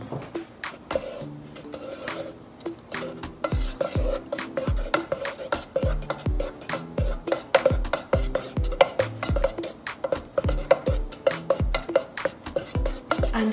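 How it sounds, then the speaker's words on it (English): A spoon stirs a melting mixture in a pot for homemade vanilla ice cream, making a rapid, regular run of close metallic clinks and scrapes against the pot for the whole stretch, with no talking. "I'm stirring it for quality content."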